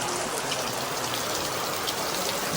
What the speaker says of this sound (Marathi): एवढा पाऊस पडत आहे बापरे आज लय पाऊस पडत आहे